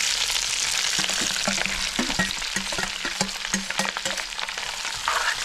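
Chopped shallots sauté in hot coconut oil with browned coconut pieces for a chicken curry: a steady, close sizzle punctuated by regular scraping strokes of a spatula across the pan, with no one speaking.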